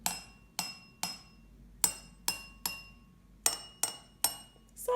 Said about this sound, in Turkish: Öncelikle bardakların seslerini duyalım.